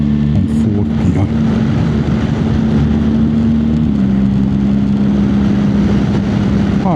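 A BMW R 1300 GS Adventure motorcycle cruises in fourth gear, its engine humming as a steady, loud drone under continuous wind rush, with a slight drop in pitch near four seconds.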